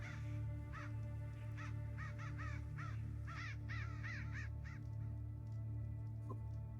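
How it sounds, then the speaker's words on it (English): A seagull calling near the ocean in the morning, a series of harsh, repeated squawking cries at moderate distance over a constant low background hum. "It's a seagull."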